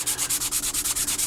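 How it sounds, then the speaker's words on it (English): Steady rhythmic sanding strokes with a sanding stick on flat plastic of a 1/48 scale model aircraft kit, about ten back-and-forth rubs in quick succession, close and fairly loud, a dry scratchy hiss on a hard surface. "what we're going to do is we're just going to nicely, flatly sand at it"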